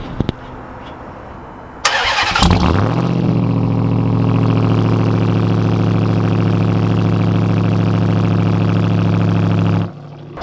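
A Ram TRX truck engine cranks and fires up after a short quiet spell, then settles into a loud, deep, steady idle that rumbles on evenly for several seconds before cutting off.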